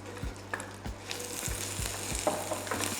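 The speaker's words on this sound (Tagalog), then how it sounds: "Put some oil, add the onions first." Onions frying in oil in a pan for Batangas-style yellow adobo, a steady close sizzle with repeated low thumps and clatter of stirring throughout.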